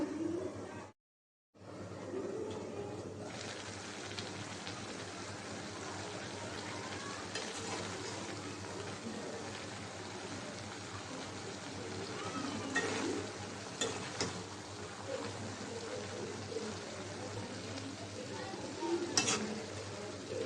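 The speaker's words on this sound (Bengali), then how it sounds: "শাকটা নাড়াচাড়া দিয়ে দিলাম" Dhenki greens with shrimp and coconut paste fry in a pan with a steady, loud sizzle while being stirred, the scraping strokes running through it; the sizzle cuts out for a moment near the start, then continues unbroken.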